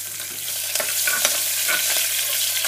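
Tempering spices crackle and sizzle in hot oil as green chilies go into the pan for anapaginjala pappu, a loud close frying hiss with scattered sharp pops and stirring.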